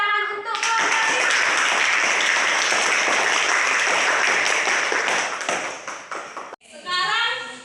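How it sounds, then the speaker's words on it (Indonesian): A classroom of children applauding a student group, a dense burst of clapping lasting several seconds that fades out, with a voice speaking just before and after. "tepuk tangan untuk kelompok 5"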